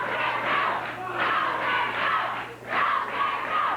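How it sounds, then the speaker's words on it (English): A wrestling crowd at a 1979 Memphis event chants in loud, rhythmic waves that rise and dip, with a brief lull before the chant surges again. "Crowd chanting for the King to go."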